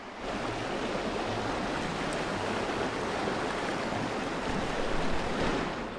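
A trout stream flows steadily at close range, its broadband rushing water hiss unbroken and even throughout, with no voices.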